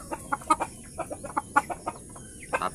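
Chickens cluck on a farm, a close run of short, irregular clucks and soft calls from one or a few birds, with no speech.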